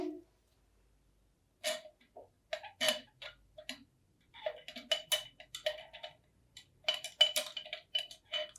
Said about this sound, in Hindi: उसके बाद अगेन हमने इस सॉल्यूशन को स्टर करना है।